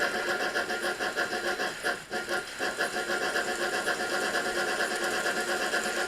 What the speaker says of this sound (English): Let's bring the train round and we'll put the brake back on it again.